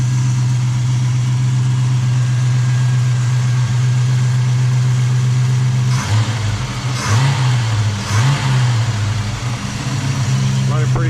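A Chevrolet El Camino engine idles steadily after a carburetor rebuild, a loud even low hum with slight blips in speed near the end, with someone talking over it.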